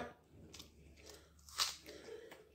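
Quiet, close-up chewing of vegetable curry with roti and raw onion: soft wet squishes and a few crisp bites, with one sharper crunch standing out midway.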